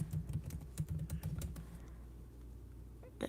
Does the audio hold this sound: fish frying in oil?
no